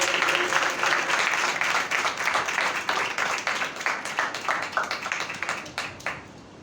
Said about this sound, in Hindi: तो जोरदार तालियों में खुशी के साथ खुदा के कलाम को वेलकम कीजिएगा।